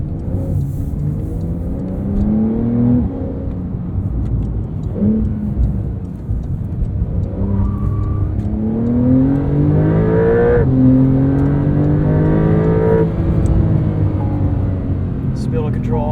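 A 2022 Porsche 911 Carrera with PDK gearbox accelerates on the road, its engine note rising through several quick upshifts and falling between them, loud and continuous from the cabin with occasional talk over it.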